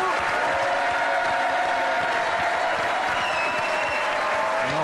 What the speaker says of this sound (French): Je vous demande d'applaudir Isabelle Mergault qui est avec nous.